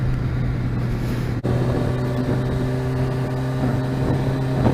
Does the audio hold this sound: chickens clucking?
no